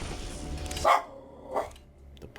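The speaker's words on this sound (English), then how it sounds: "The puppy's barking." A puppy barks two or three short, sharp times close by, with quiet pauses between the barks.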